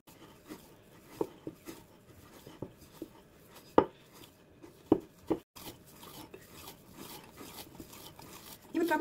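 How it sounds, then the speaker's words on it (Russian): Sour cream flatbread dough is kneaded by hand, giving soft irregular slaps and presses that repeat through the clip, close and fairly quiet, with brief pauses. "И еще раз замешиваем тесто. Все это нужно тщательно вымешать."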